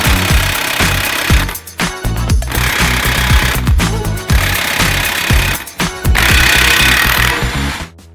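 An impact power tool loosens a bolt on the suspension of a Lamborghini Revuelto, loud rattling hammering bursts of a couple of seconds each, repeated three times with brief pauses between them, and no talk.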